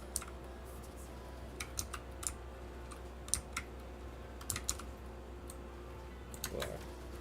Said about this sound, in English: Well, listen to the keyboard.